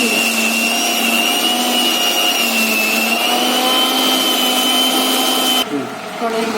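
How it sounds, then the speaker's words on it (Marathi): A mixer grinder whirs steadily while blending mango pulp, a loud continuous motor drone with a constant pitch that cuts off abruptly near the end. "आता आंबा मी मिक्सरला फिरून घेते"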